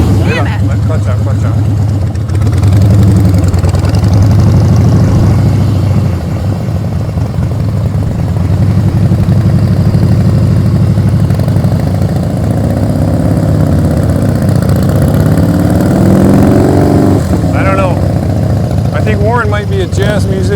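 A motorcycle engine idles with a loud, steady low drone during slow-speed practice drills at full steering lock, and a voice briefly cuts in near the end.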